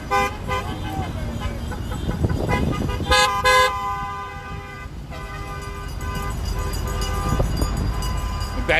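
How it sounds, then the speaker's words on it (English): Car horns honk repeatedly at a busy roadside protest corner in Boca Raton, a series of loud toots over heavy passing traffic, with someone talking nearby. "Oh, a second guy honking his horn."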